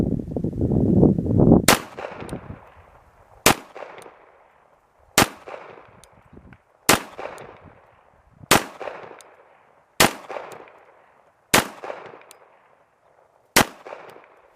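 Eight sharp gunshots from a Kimber 1911 pistol, fired one at a time at a steady pace of roughly every one and a half seconds, each a loud crack with a ringing decay, preceded by brief low handling noise.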